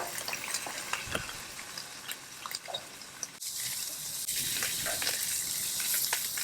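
Bacon strips sizzle on a 22-inch Blackstone Culinary griddle, a steady broadband frying hiss that grows denser and louder partway through, with a few scattered clicks and spatters on top.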